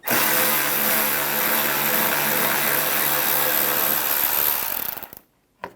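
A power tool with a 5.5mm socket backs out a screw on a 2011-2019 Ford Explorer bumper cover, a close, loud, steady whirring whine that runs continuously before cutting off near the end.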